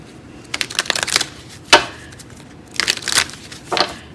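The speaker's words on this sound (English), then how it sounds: "They really wanted me to shuffle these cards well." Tarot cards being shuffled in quick, crisp riffling bursts, close and loud, in several separate flurries with short pauses between, and no voices.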